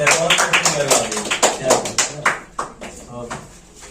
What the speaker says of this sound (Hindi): जोरदार ताली बजा दी है।